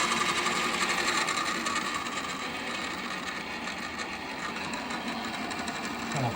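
A 3D printed serpentine coil generator driven by a steam rotary engine whirs and clatters in a fast, steady mechanical rhythm, moderately quiet and without speech.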